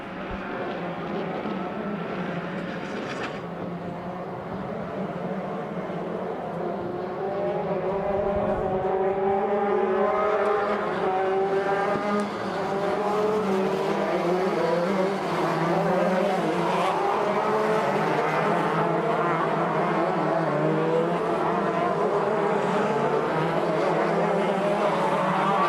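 Shifter karts race in a 15-lap main event at Adams Motorsports Park, several high-revving engines buzzing and shifting together in a loud, continuous wail that swells as the pack passes close by.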